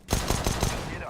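Rapid burst of gunfire in a Counter-Strike: Global Offensive match, several sharp close shots in quick rhythm followed by a short ringing tail, loud and up front.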